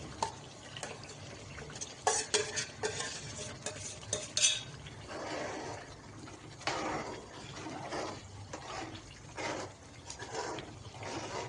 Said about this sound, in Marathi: आपण आता शिजवलेली जी उडदाची डाळ आहे ती यामध्ये टाकून देऊ